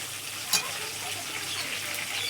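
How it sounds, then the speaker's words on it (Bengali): Potatoes frying in a pan with Bengali onion, a close continuous sizzle with a brief clatter of stirring near the start. "আলুটা লাল লাল করে ভেজে নেব"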